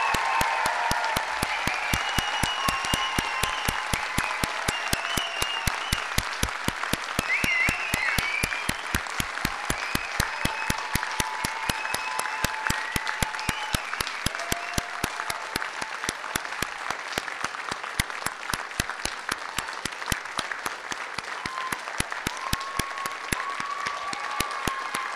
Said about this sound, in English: please join me with your applause and cheers in congratulating the graduates of 2013.